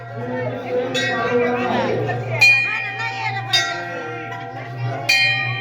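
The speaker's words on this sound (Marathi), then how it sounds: "घंटी वाजव इथं. घंटी वाजव घंटी वाजव रा." A metal temple bell at a Khandoba shrine during a village fair rings out in about three bright, lingering strikes, with voices talking and crowd chatter around it.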